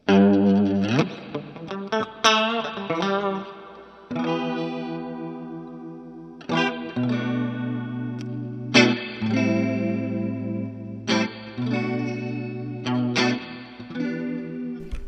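Electric guitar through a chorus pedal followed by a reverb pedal, playing a series of shimmering, warbling chords and arpeggiated notes with short gaps, loud and close, ringing out with a soft wash.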